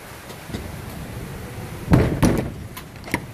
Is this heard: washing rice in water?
no